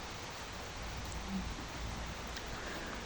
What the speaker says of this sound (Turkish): Bayağı şiddetli yağıyor yalnız.